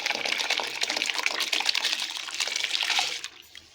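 Soaked rice poured into a pot of water for Indian-style daal chawal, a steady wet splashing and trickling that runs close and fairly loud before tapering off near the end.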